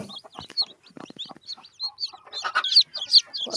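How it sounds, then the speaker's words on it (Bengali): Hens cluck close by while newly hatched chicks peep in quick, high, repeated bursts, the calls scattered and irregular with quiet gaps between. "সকালবেলা উঠে দেখি না কতগুলো মুরগি ছানা উঠেছে আমাদের"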